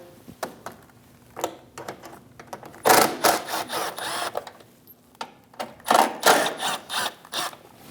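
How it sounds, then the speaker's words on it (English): Ratcheting clicks and short mechanical bursts of a 7mm socket working bolts loose from a Chevrolet Malibu fender liner, close up, in uneven spurts with louder clusters near the middle and later. "Using a 7mm socket, remove the 2 bolts."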